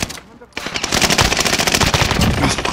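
Rapid automatic gunfire from the video game Call of Duty: Modern Warfare rattles in loud, dense bursts after a brief lull, continuing to the end with no speech over it.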